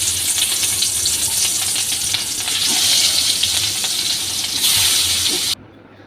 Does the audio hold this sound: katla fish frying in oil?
yes